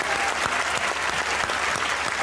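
A studio audience at a comedy talk show claps loudly and continuously, a dense crowd of hands with a few sharper individual claps standing out near the microphone.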